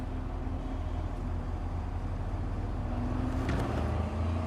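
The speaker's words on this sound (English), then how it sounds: "Let me pull up in my lowrider." Lowrider car in the video game Cyberpunk 2077 rumbling as it pulls up, a steady low engine drone held at a constant level with no talking.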